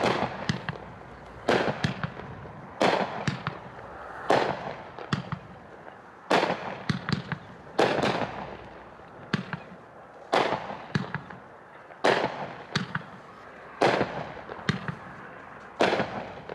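Eternity 3-over-1 pack fireworks at a demo show, firing about a dozen loud, sharp bursts in a steady rhythm, each explosion crackling and fading before the next.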